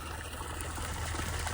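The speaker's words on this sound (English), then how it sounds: "I'm home, pumping some water." Water being pumped at home, a steady trickling, gushing flow that runs continuously and fairly loud, with a low rumble underneath.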